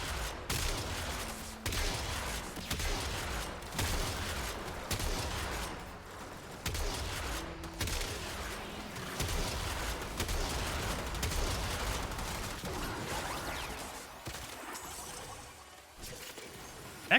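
Sustained, rapid gunfire from a shooter in the game Warframe, dense bursts of weapon fire running almost continuously at high loudness with brief lulls, no talking over it.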